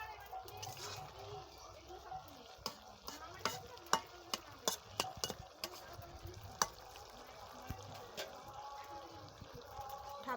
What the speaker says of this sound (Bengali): ভালো করে শাকগুলো মিশিয়ে নেব সবজির সাথে